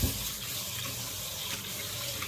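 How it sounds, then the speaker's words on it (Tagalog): Water splashes and runs steadily in a basin as rice is rinsed, a close, continuous wet swishing with no voices. "And mga sanggay, maghuhugas tayo ng bigas."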